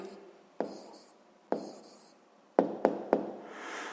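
A pen writes an answer on paper for a sixth-grade math exercise, giving soft scratchy strokes punctuated by several sharp taps, close and quiet.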